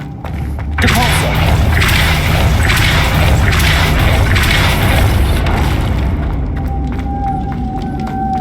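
The Depulso force spell is cast in Hogwarts Legacy, giving a loud, sudden blast that swells into a sustained rushing roar with rumbling thuds and crashes, then thins out near the end.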